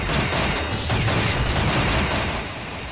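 Grenade blasts in the arcade shooter Ghost Squad merge into a dense, roaring rumble of explosions and debris that fills the short stretch at steady loudness before easing off near the end.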